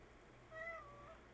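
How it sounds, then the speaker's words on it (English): A house cat gives a single faint, drawn-out meow, thin and high with a falling tail, heard alone in a quiet room. "Sorry. That's my cat."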